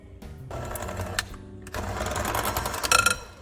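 Electric hand mixer whirring steadily as it beats butter, an egg yolk and vanilla into a cream cheese filling for a chocolate bundt cake, loud and close with a brief dip midway and rattling peaks near the end.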